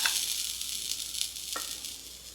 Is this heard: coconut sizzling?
yes